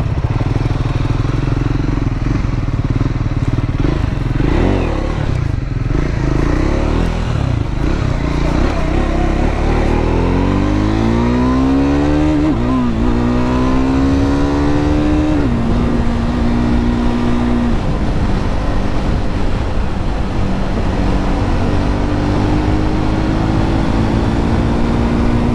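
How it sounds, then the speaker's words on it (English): Triumph Scrambler 400X motorcycle ridden on the road, its engine droning loudly and steadily with rising and falling revs through several gear changes, wind rush constant throughout. "This is a very peppy motorcycle."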